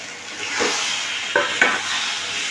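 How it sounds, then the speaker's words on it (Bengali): A fried hilsa fish head goes into a pot of taro leaves, bringing a steady frying hiss and sizzle with a few sharp clinks and stirring knocks. "এবার মাছের মাথা ভাজাটা দিয়ে দেবো"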